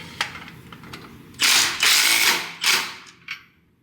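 Ratchet spinning bolts down on a steering shock install on a 2022 Ford F350, close-up: a few quick clicks, then three bursts of rapid ratcheting of about a second each and a final short spin.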